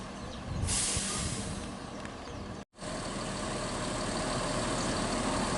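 An ANS executive bus idles at Bukit Surungan bus terminal in the morning, a steady low engine rumble with broadband hiss that runs on alone, broken by one brief dropout partway through.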